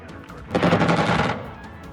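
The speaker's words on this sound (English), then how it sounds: "we're going to let our guys fire missiles and then break off" Missiles fired during air combat in the Xenonauts game, a single loud, dense burst of rapid launching fire lasting under a second, then fading into quiet background.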